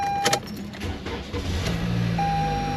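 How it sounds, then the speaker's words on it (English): A 2018-24 Toyota Camry with a 2.5L engine, serviced after a water pump replacement, is started and settles into a steady low idle rumble, with a brief electronic chime near the start and again at the end. "this is a great opportunity to go inside of the car and get it started"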